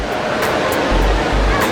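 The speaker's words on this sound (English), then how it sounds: "here's a waterfall" Indoor waterfall in a Dubai mall, a steady rushing wash of falling water heard close and loud for a brief moment, with low rumbling thumps underneath.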